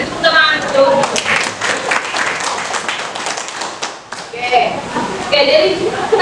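An audience in a classroom or training session claps in a short burst of taps and applause, mixed with talking voices throughout.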